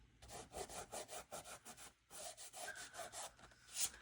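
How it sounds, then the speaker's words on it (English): Fingers rubbing watercolour paint on paper, a quiet rhythmic scrubbing in quick back-and-forth strokes, close and soft, with a brief pause midway. "so I will just rub it with my fingers"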